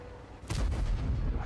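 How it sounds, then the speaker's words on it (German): A tank cannon fires in World of Tanks with a sharp blast that rolls into a heavy, sustained boom, loud and alone with no talk over it. "Der ging auch der erste Schuss schon direkt daneben."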